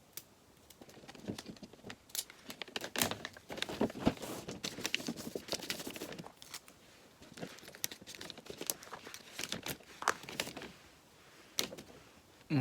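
Adhesive tape is pulled and pressed down while a gift is wrapped, a long series of close, irregular ticking and crackling snaps with brief pauses, heard on its own without speech.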